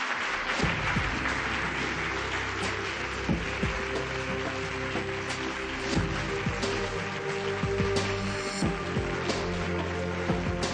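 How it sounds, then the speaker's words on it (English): Audience applause at an award night, sustained dense clapping from a large crowd that holds steady and loud for about ten seconds with no one speaking. "a round of applause for Prakash Dabral"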